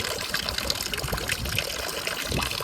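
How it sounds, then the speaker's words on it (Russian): Water trickling and splashing from a medieval public fountain in a Spanish old town, a steady close stream under faint street ambience. "наверное, средневековый источник воды."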